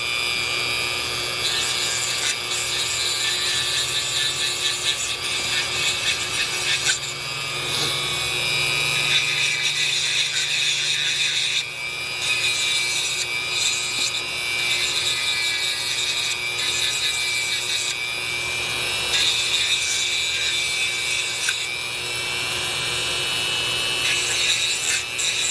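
A small grinding stone works against wood with a continuous, harsh rubbing and scraping that runs steadily for the whole stretch, close and loud, with brief dips in pressure and no talking.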